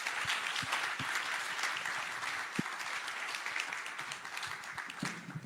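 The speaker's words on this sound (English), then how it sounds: "let's have a big round of applause for the panelists" Audience applause for panelists at the Baltic Honeybadger 2025 conference in Riga, a steady wash of many clapping hands with a few sharper individual claps, sustained at moderate distance.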